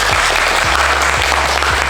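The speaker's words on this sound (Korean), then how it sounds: "박수 한번 부탁드립니다." Audience applauding at an architecture exhibition curation talk, a steady wash of clapping held at even loudness, with a low background hum underneath.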